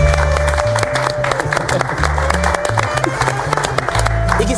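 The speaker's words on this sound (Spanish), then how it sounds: "también un aplauso para él" Audience applause for a guest on a studio culture programme, clapping and some cheering under steady low music.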